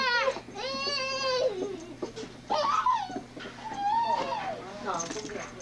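A puppy whimpers and yelps excitedly in a home, giving several high, wavering whines in bursts with short pauses between them, fairly close and clear.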